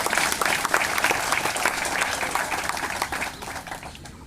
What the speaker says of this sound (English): Shall we give them a big applause?